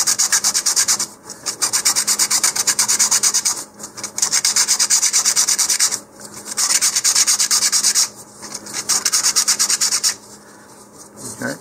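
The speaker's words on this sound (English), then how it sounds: "Now, I'm just turning as I sand back and forth here." Rhythmic back-and-forth rasp of 100 grit sandpaper working around a model rocket centering ring, in several bursts of steady strokes separated by short pauses, close and fairly loud.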